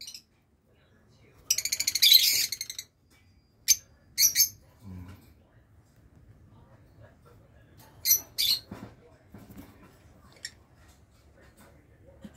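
Close, sharp chirps and squawks of pet African lovebirds come in short bursts separated by quiet gaps, with faint low rustling and murmuring in the background.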